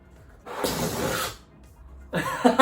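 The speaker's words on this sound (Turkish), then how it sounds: "Ben hemen şunu bir şişireyim." A person blowing up a balloon by mouth, two strong breathy bursts of air separated by a short pause, the second ending in squeaky rubbery sounds, close and loud with no talk.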